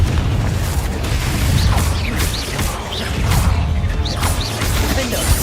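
Repeated explosive blasts and crashing impacts from the Confringo spell in the Hogwarts Legacy video game, a run of booms and smashes at fairly close range over continuous combat noise.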